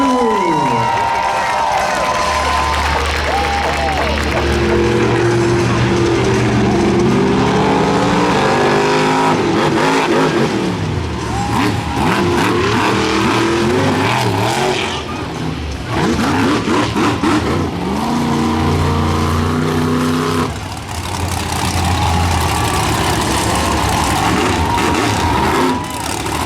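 Monster truck engines rev and roar loudly and continuously at a Toughest Monster Truck Tour show in Lamar, Missouri, with an announcer talking over the din and crowd noise in the background.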